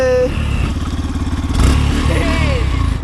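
A Yamaha FZS V3 motorcycle, started after sitting unused for ninety days, idles with a steady pulsing thump and a small rise in revs partway through, close by and loud.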